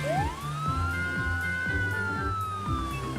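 A cartoon police car siren wails in a single long rising-then-steady tone over a busy, rhythmic background of toy-like music and effects, loud and continuous throughout.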